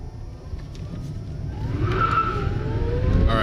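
A 1997 GM EV1 electric car drives around a neighborhood, with a rising whine and tire noise that swell louder in the second half as it speeds up, and a faint high squeal.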